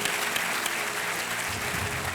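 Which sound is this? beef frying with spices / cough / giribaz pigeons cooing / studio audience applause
studio audience applause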